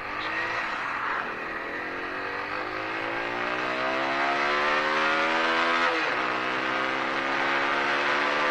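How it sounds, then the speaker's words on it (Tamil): A TVS Apache RTR 200 4V BS6 motorcycle at full throttle in sport mode: a loud, close engine note climbs steadily in pitch, dips sharply at one gear change, then rises again. "நம்ம வந்து ஃபுல் த்ராட்டில் கொடுத்து பார்ப்போம் எப்படி இருக்குன்னு"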